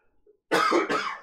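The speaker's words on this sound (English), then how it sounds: "I've got my post-sickness cough that happens" Two harsh, close coughs in quick succession, the second slightly shorter, a lingering cough after an illness, loud against an otherwise quiet room.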